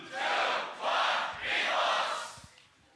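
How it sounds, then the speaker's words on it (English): A beatbox battle crowd shouts three loud rhythmic chants in unison, counting down and cheering, with a few claps at the end. "Crowd, let's get it in 3."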